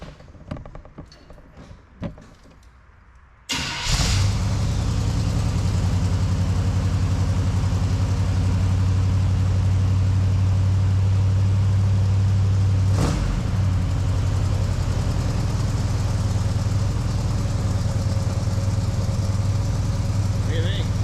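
Chevrolet C10 squarebody pickup engine starting up after a quiet moment with people talking, then idling steadily and loudly through a new exhaust with a deep, constant rumble.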